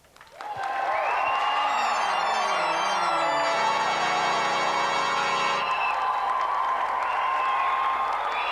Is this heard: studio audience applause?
yes